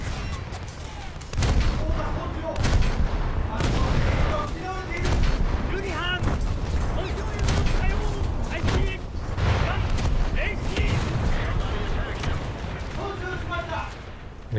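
Destroyer gunfire pounds a frigate in a naval video game, with repeated heavy booms and impact bursts arriving irregularly throughout, loud and close, while someone talks over the barrage.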